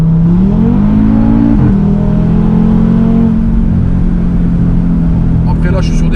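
An Audi RS3 quattro accelerates hard on a Luxembourg road, its engine note rising loud and close from inside the car, dropping briefly at a gear change and then droning on steadily.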